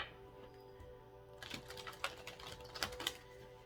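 Quick riffling and soft flicking of playing cards being shuffled, a crisp fluttering burst that rises after a quiet start, close by, no voices.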